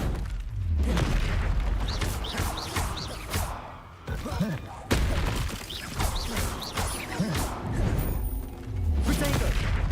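Spell explosions in the video game Hogwarts Legacy, repeated booms, crashes and magical bursts in a dense, continuous battle mix, with a voice shouting over them.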